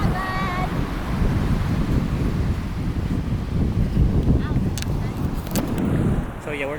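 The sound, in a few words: wind at the beach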